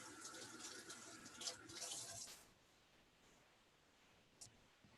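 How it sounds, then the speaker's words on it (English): Tap water runs in a kitchen sink as hands are rinsed, a steady splashing hiss for about two seconds that cuts off, leaving quiet room tone and a faint short knock. "let me rinse my hands off here"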